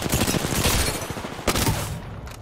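Rapid bursts of gunfire in Apex Legends crackle densely over the first half, then a sharp shot at mid-clip and a final crack near the end, fairly close and loud, with no talking.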